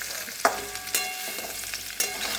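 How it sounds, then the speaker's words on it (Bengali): Vegetables fry in a pan at home, a steady close sizzle with occasional sharp clinks and scrapes of a spatula stirring, no voices. "আর এটা আর একটু ভাজা হোক।"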